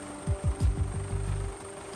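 Emergency medical helicopter flying to a children's hospital, its rotor producing a low, rhythmic thudding that speeds up and blurs into a steady chopping drone over about two seconds.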